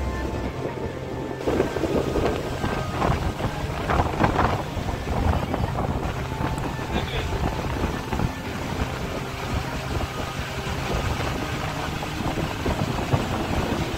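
A ferry boat travelling out across the sea and creek near Bagmandla, with a continuous low engine drone and rushing water, heavy wind buffeting throughout, and a voice faintly audible in the background at times.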